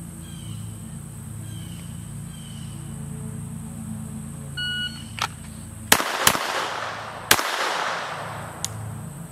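Three sharp shots from a Glock 44 .22LR pistol fired quickly outdoors, the first two close together and the third after a short pause, each loud and crisp with a short tail, over faint insect and bird background.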